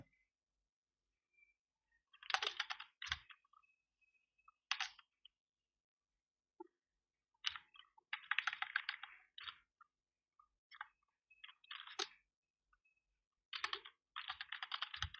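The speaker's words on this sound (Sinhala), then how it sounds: "හරි ඉතින් මම ප්‍රොම්ප්ට් එක මේ විදිහට ටයිප් කරගත්තා" Keys clatter on a computer keyboard in short bursts of rapid typing, separated by silent pauses, close and quiet with no talking.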